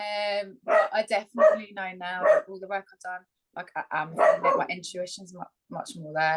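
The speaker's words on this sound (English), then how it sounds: "Sorry, that's my dog" A dog barks at the door inside a home, a few sharp barks mixed in beneath continuous conversational talk.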